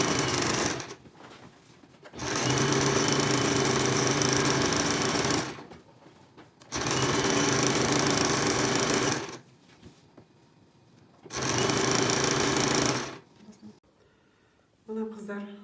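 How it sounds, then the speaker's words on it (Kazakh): A sewing machine stitches over a basted homemade fabric bread-napkin booklet, running in three long steady bursts of a few seconds each with quieter pauses between them. "Осымен бана көктеген үстіне машинкамен тігіп шығамыз"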